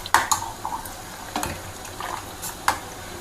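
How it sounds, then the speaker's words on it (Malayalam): A spoon stirs a coffee pudding mixture made with china grass in a pot, giving sharp scattered clinks and scrapes against the metal with soft liquid swishing between them, close and fairly quiet. "എന്നിട്ടൊന്ന് നന്നായിട്ട് മിക്സ് ചെയ്ത് കൊടുക്കുക."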